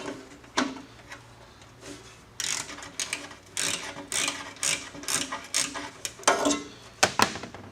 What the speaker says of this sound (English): Let's see if I can get those with a ratchet